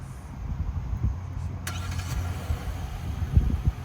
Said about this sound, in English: I'm gonna show y'all how we do the remote start on these Tellurides.